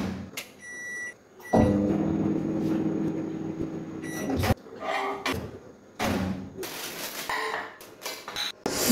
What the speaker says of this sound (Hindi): Microwave for 15 seconds.